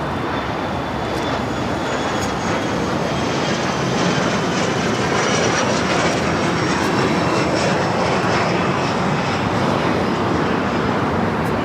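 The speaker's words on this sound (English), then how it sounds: "This is Air France Flight 24 coming in from Paris on the 777-300ER." Air France Boeing 777-300ER jet arriving at LAX on a flight from Paris, heard as a loud, steady engine roar and rushing air that holds for the full stretch with no voices.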